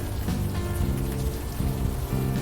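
Rain falling at night in the game Unavowed, a loud, continuous patter over a low background tone, with no talking.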